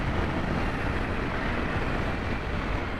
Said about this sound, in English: Creek is pumping too.